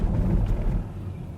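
BMW iX electric car's artificial drive sound designed by Hans Zimmer: a deep, loud, continuous synthetic hum that swells and then eases slightly, heard alone inside the car.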